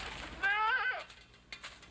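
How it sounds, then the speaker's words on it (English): A cartoon goat lets out a single wavering bleat, loud and close, with a trembling, stepped pitch lasting about half a second, then quiet with faint rustles. "No, not the goat."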